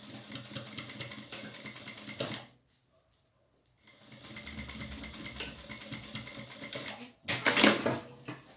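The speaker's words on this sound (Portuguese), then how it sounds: "Então, em 11 centímetros nós fazemos uma costura." A sewing machine stitches a bag pocket in two steady, rattling runs separated by a brief silent pause, ending with a louder burst of stitching.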